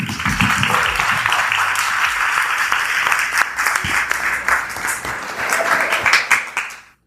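Live audience applause and cheering for a DJ set, a dense steady wash of clapping that fills the whole stretch, stays loud throughout and fades out at the very end.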